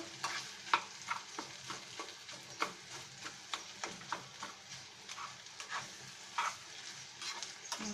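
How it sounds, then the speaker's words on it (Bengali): Shing fish roe frying with spices in a pan, stirred vigorously: a low sizzle beneath quick, repeated scraping and tapping strokes, close up with no voices. "খুব ভালো করে নেড়ে নিচ্ছি"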